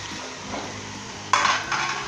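Chopped tomatoes drop into a pan of chicken karahi, setting off a sudden burst of sizzling and frying over the steady background hiss of the cooking meat.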